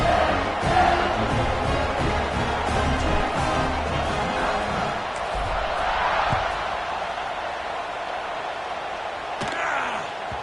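A stadium crowd in an NCAA football video game roars before kickoff, a dense sustained cheer with scattered thumps and shouts, loud at first and easing slightly toward the end.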